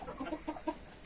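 Several backyard-farm chickens give short, soft clucks in an irregular run of close, quiet calls, with no talk over them.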